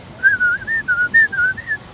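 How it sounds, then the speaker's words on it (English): A person whistles through pursed lips, a clear, close series of about eight short wavering notes in a quick, sing-song rhythm, with no talking. "you put your lips together like this to make the whistle sound"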